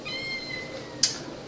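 A cat yowls, a drawn-out harmonic meow followed by a sharp brief cry near the end, heard fairly close within a short stretch.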